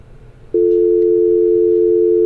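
A steady, loud single-pitch telephone tone on an outgoing call cuts in abruptly after a brief quiet moment and holds unbroken to the end.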